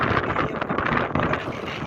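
Steady, rough wind rushes and buffets outdoors beside a fishing pond, a continuous close roar with no pauses and no voices.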